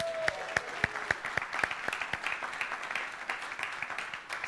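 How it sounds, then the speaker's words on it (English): Scattered, fairly faint applause from a small congregation at a Sunday service, with distinct individual claps standing out, thinning toward the end. "Can we give Duncan a round of applause?"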